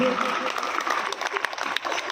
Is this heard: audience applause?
yes